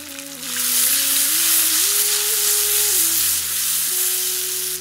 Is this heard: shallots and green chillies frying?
yes